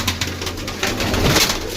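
Pigeons coo close by in a soft, steady, low warble that continues throughout, with no talk over it.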